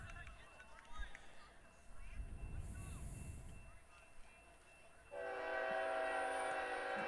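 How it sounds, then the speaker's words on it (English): A train rumbles past in the background near an outdoor varsity baseball game, its horn sounding in a long sustained blast toward the end while a commentator talks over the rail noise. "You can hear the train in the background."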